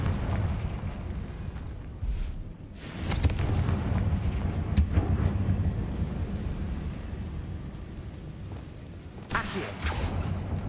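Confringo fire spell exploding in the video game Hogwarts Legacy, a couple of booming bursts over a rumbling, windy battle background, the last blast landing near the end.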